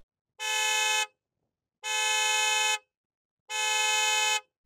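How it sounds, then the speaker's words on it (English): A car horn honks three times in steady, evenly spaced long blasts, loud and close, with silence between each. "first I want you to honk your horn"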